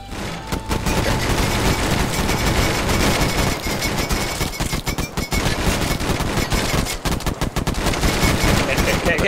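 Enemy gunfire in the video game Scalpers rattles loud and continuous, in rapid automatic bursts with heavy impacts, and a player's voice comes through over the shooting.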